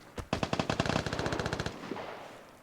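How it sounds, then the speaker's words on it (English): Automatic gunfire from an AKM and a light machine gun in the video game Vigor: one rapid burst of closely spaced shots lasting about a second and a half, with a short echoing tail afterward. "sound like an AKM, and it sound like some kind of LMG that's not heavy"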